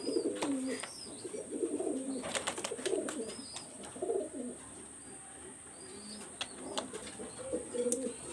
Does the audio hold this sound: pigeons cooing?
yes